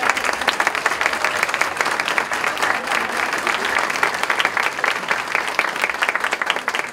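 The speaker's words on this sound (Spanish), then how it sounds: "Aplausos para ellos, por favor." An audience at a Faculty of Medicine academic recognition ceremony applauds steadily after therapy and speech programs receive certificates, with dense, sustained clapping that holds at full strength throughout.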